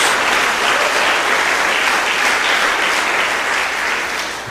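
Church congregation applauding, dense sustained clapping from a large crowd that stays loud and even, then begins to thin slightly toward the end.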